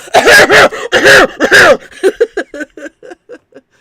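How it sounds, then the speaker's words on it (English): Three loud, harsh throat-clearing bursts close up, followed by a run of short, quieter guttural rasps tapering off. "It's clear your throat time."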